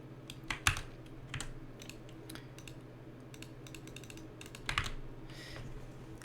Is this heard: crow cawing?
no